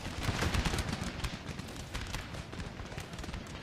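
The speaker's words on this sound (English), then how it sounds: "Keep firing the cannons on them guys." Cannon volleys and gunfire roar through a Napoleon: Total War battle, producing dense, crackling bursts of shots over a continuous loud rumble of battlefield noise, with no pauses.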